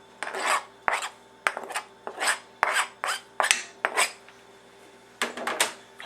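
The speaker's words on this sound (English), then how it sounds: "I'm going to have to make sure I really mix them in well and split them apart" Chunky avocado, mango and tomato salsa being mixed in a bowl gives a steady run of close, rhythmic scraping and rasping strokes, about two per second, with no talk.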